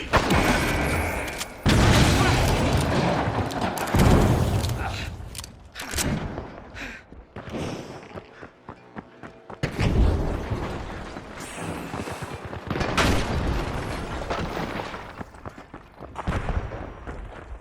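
Grenade blasts and rapid gunfire from the first-person shooter The Finals, a dense chaotic mix of loud booms and bursts of shots with sharp breaks, close and continuous through a cash-out fight.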